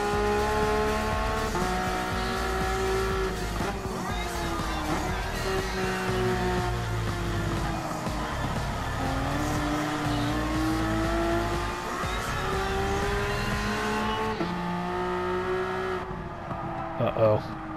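A race car engine in Gran Turismo Sport howls steadily at high revs through a race, pitch rising and dipping with gear shifts and corners, with tire noise and a voice talking over it.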